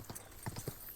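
A horse's hooves clip-clop in Kingdom Come: Deliverance II, with a few quick, evenly spaced thuds set against a dense, steady game soundscape.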